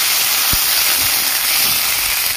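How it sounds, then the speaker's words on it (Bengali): Ginger and green chilli paste hits hot oil with cumin, dried chillies, bay leaf and whole garam masala, giving a loud, dense, continuous hissing sizzle close up, with faint scraping stirs underneath. "আদা আর কাঁচা লঙ্কা বাটাটা দিয়ে দিচ্ছি।"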